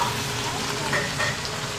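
A Thai-style omelette fries in a hot pan, giving a steady, close sizzle and crackle of oil that runs without a break through the short stretch.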